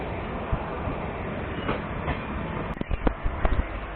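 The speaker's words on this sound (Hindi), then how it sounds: "अपनी ट्रेन निकल चुकी है गाजियाबाद जंक्शन से" The Delhi Dehradun Mussoorie Express runs out of Ghaziabad Junction with a steady rumbling roar, and a cluster of sharp wheel clicks and rail knocks sounds near the end.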